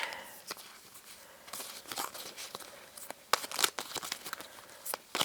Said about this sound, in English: I'm just going to do a quick shuffle